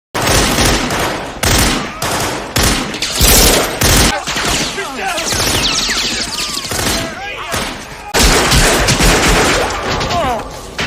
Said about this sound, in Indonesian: Baku tembak pun tak terhindarkan antara anak buah Ken dan para polisi.